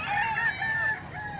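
A golden boy sweater gamecock rooster crows nearby, one loud, drawn-out cock-a-doodle-doo that trails off over faint outdoor background noise.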